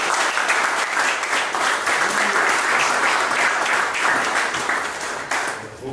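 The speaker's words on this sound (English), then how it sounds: "let's give a round of applause for Max." Audience applauding a speaker at a Python meetup, dense steady clapping from a roomful of people that tapers slightly toward the end.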